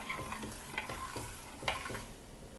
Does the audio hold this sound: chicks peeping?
no